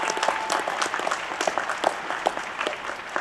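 Audience applause for the platform party at a university graduation ceremony, a dense, steady patter of many hands clapping in a large hall, sustained throughout.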